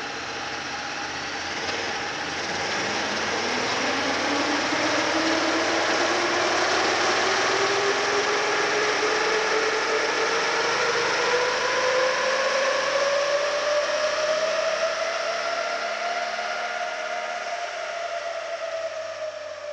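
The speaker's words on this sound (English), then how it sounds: "I started the bike, I put it into automatic mode, drive, and I just pushed on the, or twisted the twist grip, took it up through the revs" A Honda motorcycle in automatic drive mode revs up through its gears, a loud, close, steadily rising engine whine climbing in pitch over about twenty seconds without pause.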